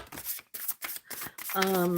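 Tarot cards are shuffled by hand in short, close, papery bursts with brief pauses between them, and then a person starts speaking.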